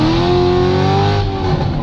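Corvette Z06 accelerating hard from a standstill to 55 mph, a loud, close, steadily rising engine note with no talk over it.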